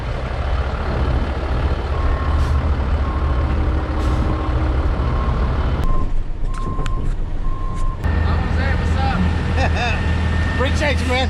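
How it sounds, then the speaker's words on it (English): Heavy construction trucks rumble along a road being paved, a loud, close diesel drone with hissing air brakes and repeated reversing beeps, as people talk nearby. "It's hard to miss all the trucks here."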